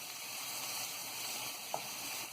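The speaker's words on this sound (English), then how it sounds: "We're going to saute it on both sides for about 4 minutes on medium low." Salmon fillet sautéing in a pan over medium-low heat, a steady close sizzle and crackle of frying running throughout with one brief pop near the end.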